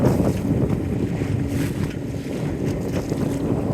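A Yamaha 2.5 outboard motor pushes a small West Wight Potter 15 sailboat in a brisk breeze, its low hum running steadily beneath loud wind buffeting and water rushing past the hull.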